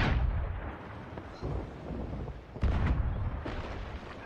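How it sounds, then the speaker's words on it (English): Several deep, booming ship cannon blasts in the game Sea of Thieves go off one after another, each followed by a rumbling decay, with no one speaking. "Fire the cannons"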